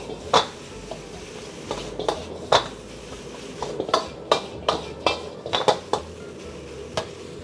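Rice and egg stirred and broken up in a pan for egg fried rice, with a series of sharp metal clanks and scrapes of a spatula against the pan, irregular and close, bunching together toward the end.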